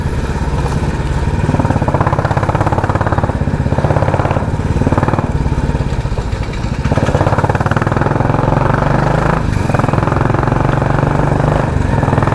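A Royal Enfield Classic 350 motorcycle engine runs loud and close throughout, a steady low thumping drone with slight swells in revs and no talking.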